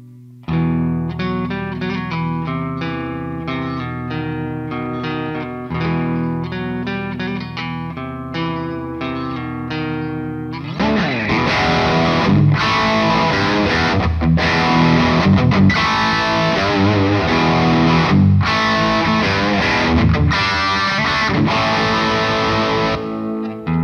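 A Suhr Guthrie Govan electric guitar rings out in clean, articulate picked notes, then the blower switch kicks in and the tone jumps to a louder, thicker and more distorted strummed sound that sustains to the end.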